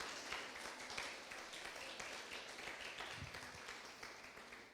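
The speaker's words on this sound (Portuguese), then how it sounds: "Aplauda o Senhor Jesus mais uma vez." A Sunday church congregation claps together, a faint, distant wash of applause with rhythmic clapping running steadily throughout.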